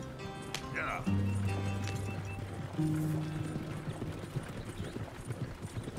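Rhythmic hoofbeats clip-clop steadily as horses run in the video game Red Dead Redemption 2, mixed with synthesized tones and faint background voices.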